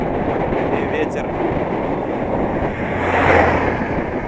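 Steady wind buffeting a microphone while cycling on a road against a northwest headwind, a dense, continuous rushing roar that swells slightly toward the end.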